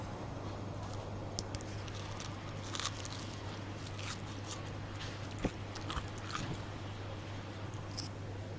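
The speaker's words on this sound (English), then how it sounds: "Oh, it's so crunchy." Crunchy fish and chips being eaten in Hong Kong produce a quiet run of close, irregular crisp bites and chewing crunches over a low steady background hum, with no talking.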